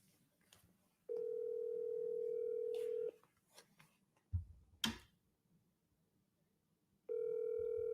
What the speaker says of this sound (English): Should I call Tree? Let's call Tree